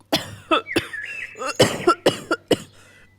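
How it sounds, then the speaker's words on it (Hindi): Cartoon pigeon coughing after drinking bitter water from a rooftop tank: a run of about eight sharp, rasping coughs and throat-clearing bursts in uneven rhythm, close and loud, with a brief squeaky vocal tone between them. "कबूतर जैसे ही टूटी से पानी डालकर पीता है, वो खांसने लगता है।"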